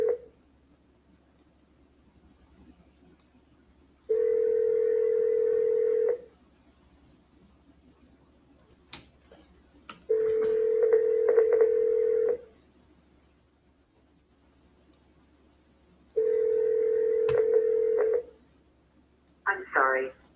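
Telephone line tones sound during a cold sales call: three long steady electronic tones of about two seconds each, separated by quiet gaps, then a short clipped burst at the end.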